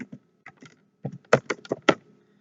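Close, crisp keystrokes on a computer keyboard tap out a short word in uneven bursts of about a dozen clicks, with no voice over them.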